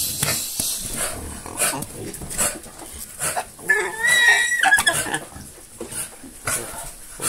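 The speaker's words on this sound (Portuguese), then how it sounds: "Porco brigando aqui, rapaziada." Pigs brawling in a farm pigsty, with harsh squeals, grunts and snorts coming in repeated close bursts, loudest midway, and little talk over them.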